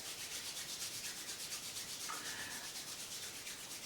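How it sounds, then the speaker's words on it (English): Two hands rub briskly together in a steady back-and-forth rhythm, a close, soft, continuous swishing friction during a home warm-up exercise. "So rub your hands together."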